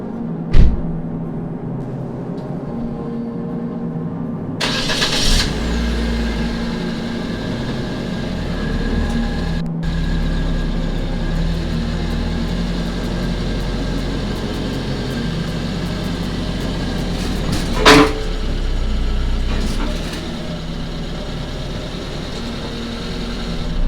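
A front-wheel-drive car rolls up onto Petersen Tru Cut metal ramps with a steady, loud, close engine drone throughout, broken by a couple of sharp metallic clunks near the start and again later.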